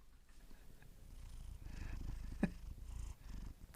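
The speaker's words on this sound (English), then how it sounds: "I gotta get this cat out of here." A house cat purrs steadily and close up, a low rumbling drone that swells slightly in the middle, with a few faint knocks around it and no speech.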